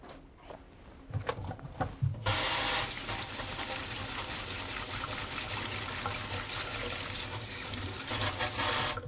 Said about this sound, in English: So first I'm going to wash my hands.